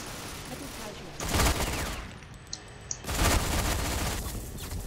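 Two rapid bursts of automatic gunfire ring out in a shooter video game, the second longer than the first, over a quiet background.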